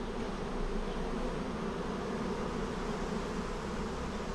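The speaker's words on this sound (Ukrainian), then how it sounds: "Зараз бачите, у нас обльотики почались. Все хорошо літають сімейки." Honeybees fly around their hives during a cleansing flight, a steady dense buzzing hum that holds throughout at moderate level with no talk.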